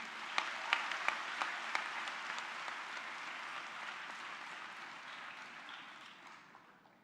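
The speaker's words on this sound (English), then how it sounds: "amidst all the thunderous applause" A seated audience at a book release gives steady applause, a broad even clatter of many hands heard from a distance that slowly fades out.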